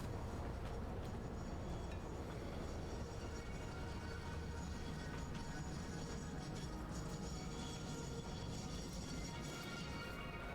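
Train running in the video game Satisfactory, a continuous low rumble of rolling rail cars with faint clatter, steady and fairly quiet throughout.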